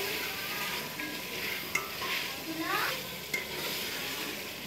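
Beef nihari is roasted and stirred in a pot, a soft continuous frying sizzle with occasional spoon scrapes and light clinks, fairly quiet and without talk.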